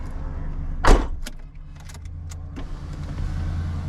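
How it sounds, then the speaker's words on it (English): An electric power window on a car with a bad clutch rolls down in a close whirring motor run over the steady low rumble of an idling engine, starting with a clunk and trailed by faint clicks. "I'll roll down the window."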